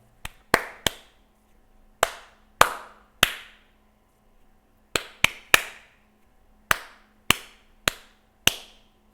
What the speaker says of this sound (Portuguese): A ideia era que a pessoa ela tinha que reproduzir uma determinada música com palmas